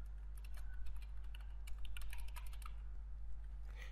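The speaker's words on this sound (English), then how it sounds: "I'm just typing the label first" Rapid, uneven clicking of keys being typed on a computer keyboard, close by, steady over a constant low hum.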